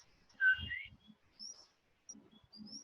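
Large-billed leaf warbler giving its two-note call, a pair of clear, high whistled notes up close near the start, followed by faint, softer chirps in a quiet setting.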